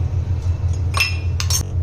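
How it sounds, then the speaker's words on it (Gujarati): Ice cubes clink against glass as they drop into fennel sherbet made with lemon, a few sharp close clinks over a low background hum, with no talking. "એમાં આપણે બરફ નાખવાનો છે"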